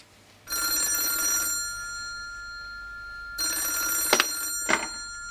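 A telephone rings in a live escape-room puzzle game, with two loud, bright bursts of steady ringing separated by a quiet pause and a couple of sharp clicks near the end.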